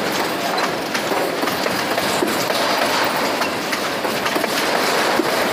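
Train wagons roll past at a level crossing, a loud, continuous rumble and rattle of the cars swaying by close up, with a faint rhythmic clatter of wheels under the steady roar.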